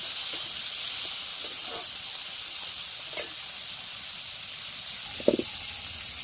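Prawns hit a generous layer of hot oil, giving a steady, moderately loud sizzle and hiss throughout, with a few brief stirring clinks and scrapes near the end.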